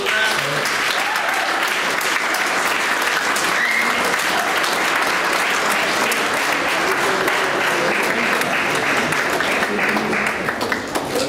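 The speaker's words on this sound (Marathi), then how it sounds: "टाळ्या तरी वाजवा." An audience claps steadily and loudly through the whole stretch at a prize distribution for a state carrom championship, with no voices standing out.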